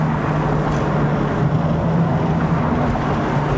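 A 1996 Corvette Grand Sport engine downshifts, holding a steady, smooth low drone heard from inside the car for a few seconds.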